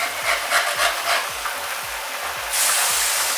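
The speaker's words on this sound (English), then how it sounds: "I don't know if you can hear me over all of the frying and the grilling" Steady broadband sizzling of lamb smash burger patties frying on a hot grill, with faint regular low thumps beneath; the hiss grows brighter and louder near the end.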